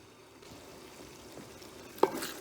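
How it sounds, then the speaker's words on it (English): Meat frying in a pan of hot oil and grease for homemade chili, a faint steady sizzle with a stir and a brief clatter near the end. "let's just mix them in there so they can all get a chance to cook in the bath of hot oil and grease"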